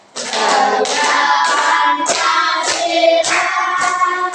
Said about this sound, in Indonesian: Sambil tepuk tangan biar semangat ya.